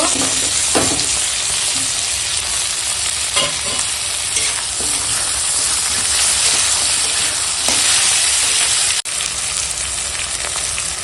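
Cut potatoes and tomato fry in a pan, a loud dense continuous sizzle close up with occasional stirring clatter mixed in, running steadily without talk.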